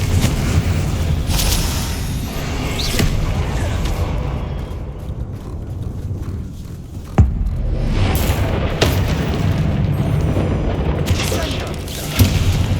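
Explosive spell blasts in the Hogwarts Legacy video game, deep booming impacts over a loud rumbling battle bed with a few sharp hits, accompanied by shouted voices.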